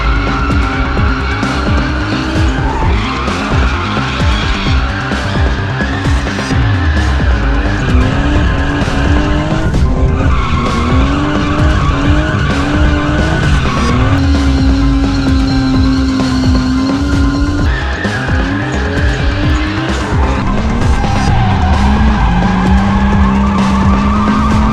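Nissan HR31 Skyline drifting, its engine wailing and shifting pitch through repeated slides while tires squeal and skid steadily under load, loud and close throughout with no talk.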